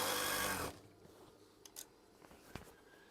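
Sewing machine stitching curtain fabric, a short dense burst of rapid mechanical whirring that stops abruptly, followed by quiet handling clicks and faint rustles.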